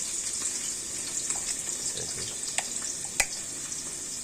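Small fish go into a hot pan for a bean mash, with a soft continuous sizzle and faint clicks and taps of cooking, quiet and close.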